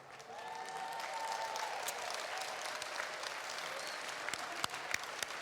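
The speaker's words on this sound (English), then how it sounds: "Come on, applause," An audience claps steadily throughout, a dense, sustained wash of applause with a few sharper claps standing out near the end.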